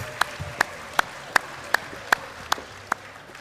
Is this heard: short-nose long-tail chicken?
no